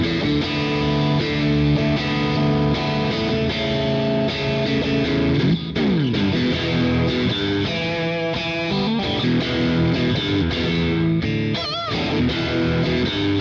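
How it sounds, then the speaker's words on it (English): A 2024 PRS SE CE sandblasted electric guitar plays through heavy distortion, sustained chords and ringing notes with a brief slide and pick scrape midway, loud and continuous without any voices. "It goes anywhere from really nice jangly clean tones all the way up to fire breathing distortion."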